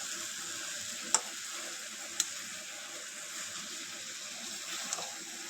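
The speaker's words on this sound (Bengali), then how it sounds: "আর চিকেনটা কষাচ্ছি।" Chicken kosha frying in a pan with mixed vegetables, a steady low sizzle throughout with a few sharp clicks of a utensil stirring against the pan.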